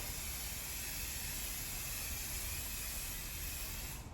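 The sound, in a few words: spraying Scotchgard fabric protector on a couch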